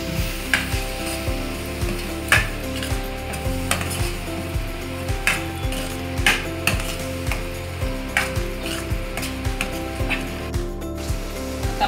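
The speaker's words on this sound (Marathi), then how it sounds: "तिखट मिरची पावडर, पावभाजी मसाला टाकून घेतले. आपण मिक्स करून घेऊया." Pav bhaji with chilli powder and pav bhaji masala sizzles in a pan while being stirred, with a steady frying hiss under repeated rhythmic scrapes and clanks of the spoon, close and moderately loud.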